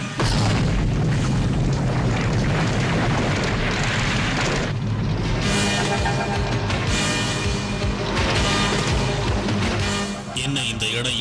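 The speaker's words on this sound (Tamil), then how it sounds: "அந்த எரிமலை வெடிச்சு சிதறிக்கிட்டு இருக்கு" Cartoon sound effect of a volcano erupting, a dense, continuous roaring boom with crackling debris that stays loud throughout, with speech partly buried in the noise.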